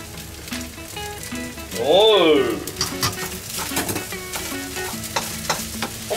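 Beaten egg hits a hot pan of Chicken Ramen fried rice with a loud surge of frying sizzle, followed by stirring clatter and scraping, while a voice briefly exclaims.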